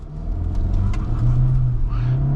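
Seat Tarraco 1.5 TSI FR SUV pulling away at full throttle with a brief wheelspin, the engine note climbing steadily and loud from inside the cabin, no talking.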